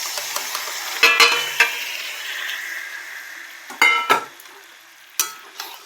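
Marinated chicken dropped into fried spice masala in a pan, giving a steady close sizzle with several sharp stirring scrapes and clatters over it; no voices.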